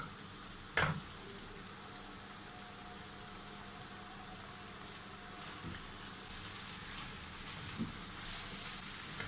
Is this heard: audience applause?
no